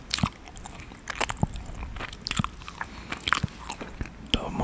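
Close, crisp biting and sticky chewing of a chewy Korean rice cake (tteok) with garlic chicken, heard as a rapid, irregular series of small crunches and wet mouth sounds, with no talking.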